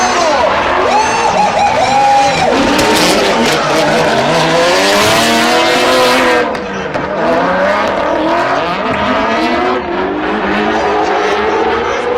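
Gaz Whiter's Toyota Tires Nissan S14 drift car screams through a tandem battle, engine revving hard with rising and falling pitch while tires squeal continuously, loud and close, with another car's engine blending in.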